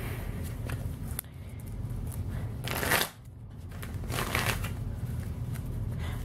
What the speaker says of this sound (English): so my deck is all shuffled up now